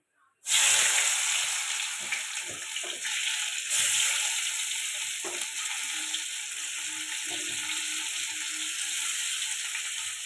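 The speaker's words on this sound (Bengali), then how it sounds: "এবার কড়াতে দিয়ে দেবো পেঁয়াজ" Onion dropped into hot oil in a pan for a fish curry with scallions and tomato, a sudden loud burst of hissing sizzle that settles into a steady, bright frying hiss with a few faint knocks.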